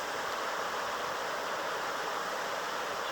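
The South Fork of the Sun River in a wilderness valley rushes in a steady, dense wash of flowing water, even and continuous from start to end, close by, with no voices.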